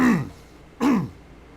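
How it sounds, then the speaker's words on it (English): Two short, rough throat clearings close to the mic, separated by a brief pause, with no talking. "I can't seem to clear my throat."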